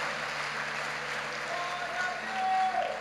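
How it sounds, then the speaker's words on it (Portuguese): A congregation applauds during a church service, a steady wash of clapping filling the room at moderate volume while a voice talks over it. "aplauda Jesus aí"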